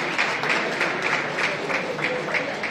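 Audience at a Congo night event in Madrid applauding, dense continuous clapping from a sizable crowd with a steady rhythm, filling the room at moderate loudness.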